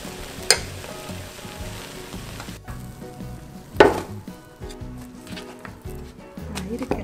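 Eggs frying in a pan over low heat, a steady soft sizzle running throughout with a couple of sharp clinks of a utensil against the pan, close by, with some speech mixed in.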